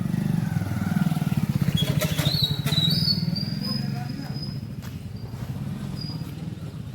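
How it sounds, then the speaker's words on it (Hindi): A motorcycle approaching along a rough, broken village road in Kuriyana, its engine a steady loud drone with clattering, under a man's speech. "ये मोटरसाइकिल आ रही है"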